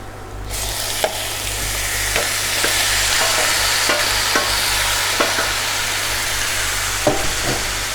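Yogurt-marinated chicken frying in a pan for Kashmiri chicken, a loud, steady sizzle close up, broken by occasional light knocks of a spoon stirring.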